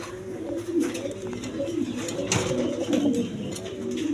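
A pair of red Shouking pigeons coo softly and repeatedly at close range, low throaty calls overlapping in a steady rhythm.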